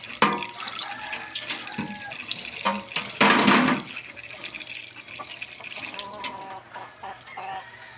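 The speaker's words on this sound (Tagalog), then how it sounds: "Kukuhanin natin ng tubig" Tap water runs and splashes into a container on a farm, with chickens clucking nearby in the background; the flow surges loudly midway, then continues more softly.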